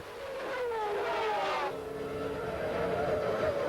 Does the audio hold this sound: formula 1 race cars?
yes